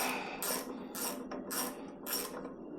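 A socket wrench ratchets while loosening a bolt on a pressure washer unloader, four evenly spaced bursts of close, crisp clicking with quiet gaps between them.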